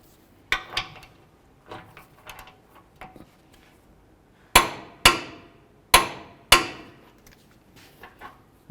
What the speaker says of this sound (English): It's time to torque these 21mm headed bolts to 107 foot-pounds.